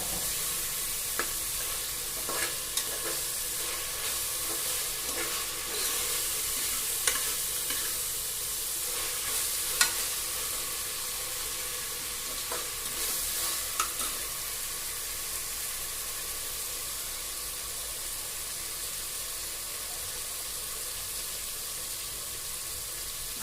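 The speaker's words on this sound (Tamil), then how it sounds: "நல்லா வதங்கணும், நல்லா வேகணும், பச்சை வாசம் போகணும்" Mushroom biryani masala sautés in a pan with a steady, close sizzle, broken by scattered scrapes and taps of a stirring spoon, with no voices.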